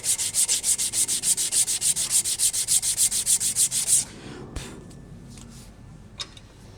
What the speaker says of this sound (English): This is just the rough sandpaper at the moment.